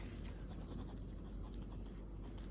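Pen scratching on paper as someone writes a maths answer by hand, a faint, steady run of close scratchy strokes.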